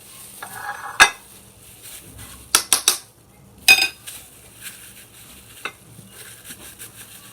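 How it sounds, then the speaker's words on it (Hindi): A spoon scraping and clinking against a bowl while ground ginger-garlic paste is stirred with turmeric powder, with a few sharp knocks over a faint background hiss. "तो पिसे हुए अदरक लहसुन में हल्दी पाउडर को अच्छी तरह से मिक्स कर लें।"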